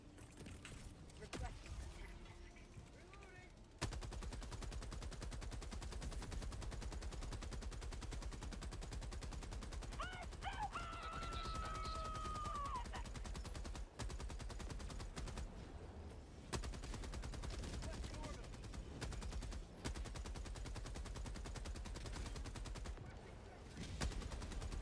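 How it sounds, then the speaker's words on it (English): Heavy machine gun fire in the video game Helldivers 2, a sustained rapid burst of rattling shots running almost continuously with brief gaps, loud and close, with other game sounds layered underneath. "We can just use the heavy machine gun to kill those."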